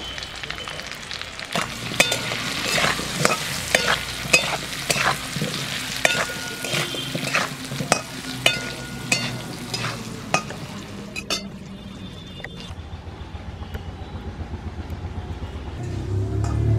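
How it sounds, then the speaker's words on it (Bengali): Potato pieces fry in hot oil with salt and a little turmeric, a steady sizzle broken by repeated sharp scraping clicks as they are stirred, ending in a rising hiss. "প্রথমে তেলের ওপর আলুগুলোকে দিয়ে দিলাম, এবার একটু দেব লবণ আর সামান্য একটু হলুদ।"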